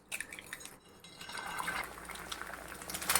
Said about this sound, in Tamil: அதில் 2 முட்டையை உடச்சி ஊற்றிக்கலாம்.